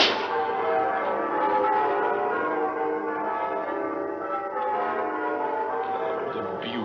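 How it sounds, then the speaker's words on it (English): Church bells peal together in a continuous, ringing wash of overlapping tones, loud and steady throughout, from a 1951 film of A Christmas Carol, with no talking. "Bells. Merry, merry bells."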